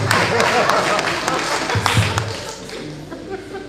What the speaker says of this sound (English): A better round of applause for my learned